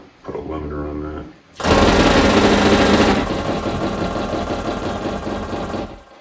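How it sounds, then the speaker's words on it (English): Two solenoids inside an electro-mechanical pulse generator clatter in a loud, rapid, buzzing machine-gun rattle, close up, with a wire nut wrapped in rubber tape adding a clanky edge; a brief voice comes before it. "So the pulse generator, there's just two solenoids in there. That's just those guys going."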